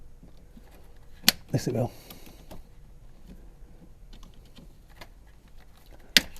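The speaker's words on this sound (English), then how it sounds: "I use my wire cutters and I'll snip some of it off" Wire cutters snip wire on a Fiat 500 in two sharp, isolated clicks several seconds apart, with a short rustle of handling between them and a voice speaking briefly.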